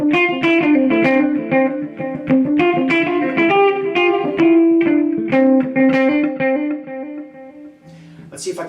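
Guitar notes run through a glitchy tape echo unit with dirty pots, a loud, close run of plucked phrases with wavering repeats and some distorted crackle.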